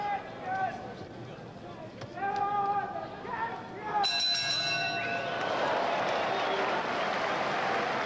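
Boxing bell ringing to end a round at a televised professional fight between Carlos Palomino and John H. Stracey, a few clear metallic rings near the start and again around the middle, over steady loud arena crowd noise and commentary.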